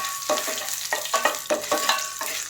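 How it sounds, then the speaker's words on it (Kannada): Mustard seeds and crushed ginger fry in a pan, a bright crackling sizzle with a quick series of about eight sharp stirring scrapes and pops, close and fairly loud. "ಅದು ಸಾಸಿವೆ ಸ್ವಲ್ಪ ಫ್ರೈ ಆಗ್ತಾಯಿದೆ."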